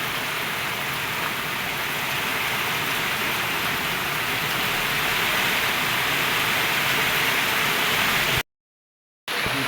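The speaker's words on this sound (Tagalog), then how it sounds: "Sobrang lakas po ngayon ng ulan dito." Heavy rain pours down in a steady, dense hiss that stays loud and even throughout, then cuts off abruptly near the end.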